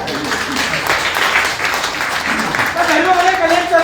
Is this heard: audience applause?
yes